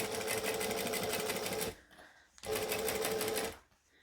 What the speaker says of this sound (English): slow and steady top stitching.